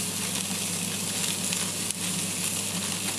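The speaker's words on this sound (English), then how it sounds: "Now it's quite a high heat that I'm getting it, so I'm just searing it off." A macadamia-crusted barramundi fillet sears presentation side down in a hot pan with a little oil, giving a loud, close, continuous sizzle with one brief clack partway through.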